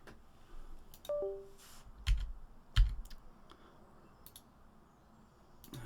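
Computer keyboard keys are pressed in a few separate, sharp taps with pauses between, fairly close and quiet, heard with no talking.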